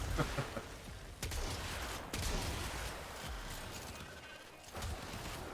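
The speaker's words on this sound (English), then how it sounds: "that's some really big explosions" Loud, dense bursts of explosions and gunfire from the video game Warframe rumble in rapid succession, with heavy booms and crackling debris throughout.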